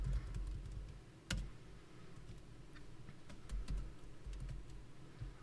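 A password is typed on a computer keyboard during a Linux setup: faint, scattered key clicks, with one sharper tap, over a steady low background hum.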